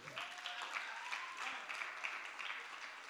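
A classroom of students claps together, a brief, faint patter of applause that continues evenly for a few seconds.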